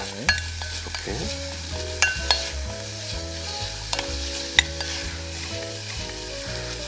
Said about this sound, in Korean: 무도 살짝만 한번 볶는다기보다는 그냥 한번 살짝 가볍게 섞어주고